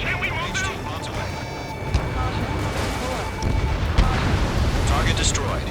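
Bombs exploding on ground targets in Ace Combat 7, rumbling booms and blasts layered under continuous jet engine roar, with a louder burst near the end and radio voices talking over it.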